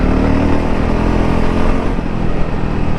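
A 2023 Voge 300 Rally motorcycle ridden off-road, its single engine droning loud and close with a steady, slightly fluctuating rumble and no pauses.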